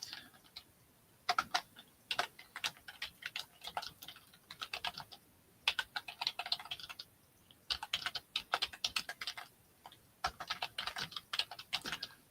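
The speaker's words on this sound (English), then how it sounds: "Let me type in here." Someone types on a computer keyboard at a live vintage jewelry auction, with bursts of rapid clicking keystrokes broken by short pauses, close and clear with no speech.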